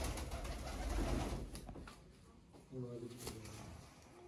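Close red-eyed breeder pigeons give a few distinct low coos in the second half, following a louder stretch of mixed noise and talk at the start.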